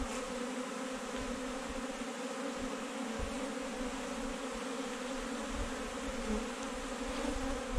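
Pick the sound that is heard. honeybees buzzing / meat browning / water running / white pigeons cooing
honeybees buzzing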